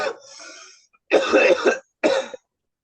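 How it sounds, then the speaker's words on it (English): Several harsh coughs in short bursts, close and fairly loud, separated by brief silences. "I started coughing."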